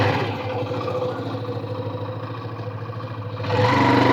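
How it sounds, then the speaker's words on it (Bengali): A motorbike engine hums steadily while riding along a road where monkeys gather, with a pulsing mid-pitched drone that swells louder near the end. "তো আমরা আগাচ্ছি বাইক নিয়ে"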